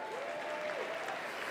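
An awards show audience claps and cheers in a steady, dense wash of applause with no pause.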